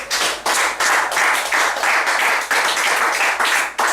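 An audience at a school graduation ceremony claps loudly in steady, close bursts of applause that continue throughout.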